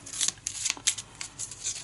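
Quick riffle shuffle of Arkham Horror spell cards, a rapid run of crisp papery snaps and flutters in short bursts, close and fairly quiet.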